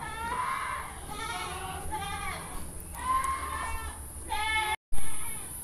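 Several goats bleat in a loose series of wavering cries from a pen beneath a raised hut, fairly close, over a steady background hum, with a brief dropout near the end.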